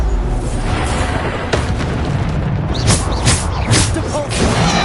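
Bombarda spell blasts in Hogwarts Legacy erupt in a dense, loud stream of booming explosions and crackling bursts, several sharper pops punching through a constant roar of combat noise.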